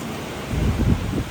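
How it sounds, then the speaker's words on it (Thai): Gusty storm wind in southern Laos buffeting the microphone, a low roaring rush that swells louder midway, with no one speaking. "ลมพัดเลย"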